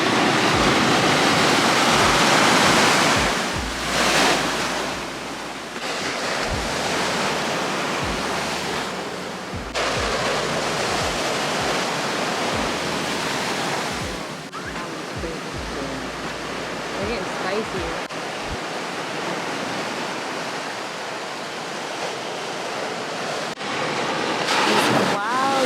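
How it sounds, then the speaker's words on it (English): Ocean surf rolls and crashes continuously at La Jolla, San Diego, loud and close, with swelling roars and hissing washes as waves break and recede over about twenty-five seconds. "The waves are feeling spicy today."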